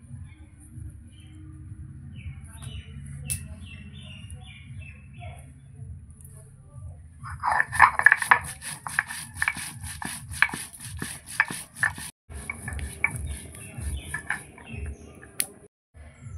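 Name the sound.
grinding whole cumin seeds on a grinding stone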